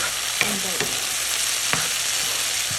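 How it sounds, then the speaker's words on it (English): Matar paneer sizzling and frying in a pan under steady stirring, a constant loud hiss with a few scraping clinks of the spoon against the pan, no talking. "You want to make sure you're continuously stirring, otherwise you're gonna get burnt."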